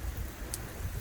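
Fine water mist spraying onto a car windshield to wet it for a wiper test, a steady soft hiss like light rain, constant and fairly quiet with no voices.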